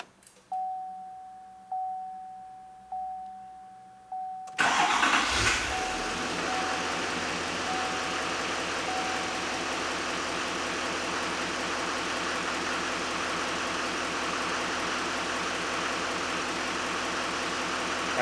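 A GM truck that has sat for almost two years: a few repeating chimes, then the engine cranks and catches, settling into a loud, steady idle that runs to the end.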